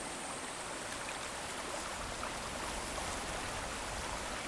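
Marshland ambience from a Krotos Studio Genesis sound pack, weighted toward water: a steady, dense rush of flowing, trickling water with a faint high hiss, holding even and continuous throughout.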